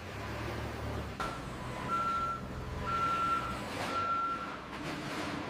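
Delivery trucks at a food-factory loading bay back up with reversing alarms sounding in three or four steady beeping bursts over a low diesel engine rumble, with no talk.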